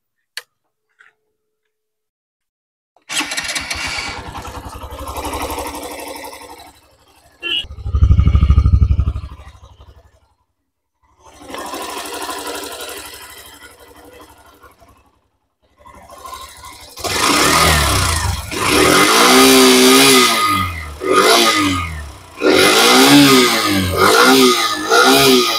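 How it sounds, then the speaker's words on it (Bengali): A Hero Xtreme 125R motorcycle engine starts with a brief burst, settles into a ticking idle, then revs up repeatedly in loud rising and falling surges, close by with no talk. "এবার এক্সট্রিমটা দেখাচ্ছি তোমার এসপির তুলনায় কেমন সাউন্ড দিচ্ছে।"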